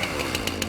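A chainsaw's engine revs steadily with a harsh, buzzing drone, rising in a few short pulses over a continuous loud roar, close by with no talking.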